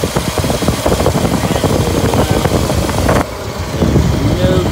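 A 1964 Ford Thunderbird engine runs steadily at idle, close and loud, a continuous rough rumble with dense low knocking pulses that holds through the whole stretch with a slight dip near the end.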